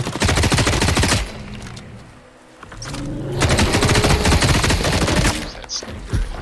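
Rapid bursts of gunfire in a video game, dense rattling volleys that stop and start again, loud and close, with a quieter gap in between.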